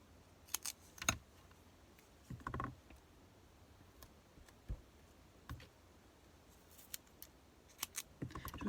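Scissors snipping paper in short, quiet, irregular cuts with gaps between, close and isolated against a faint background.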